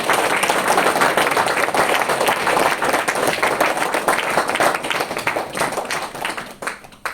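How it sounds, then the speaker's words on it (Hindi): Audience applause from a large gathering, dense and steady clapping filling the space for several seconds before thinning slightly at the end, with no voices over it. "तो आपके लिए तालियां होनी चाहिए।"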